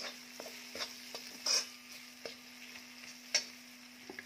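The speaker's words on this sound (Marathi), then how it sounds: "चटणी टाकून म्हणजेच मसाला टाकून छान असं हे परतून घ्यायचं आहे" Broad bean pods being sautéed with Kolhapuri masala chutney in a pan, heard as a quiet, sparse scrape-and-clink of stirring with a couple of sharper knocks and a faint steady hum underneath.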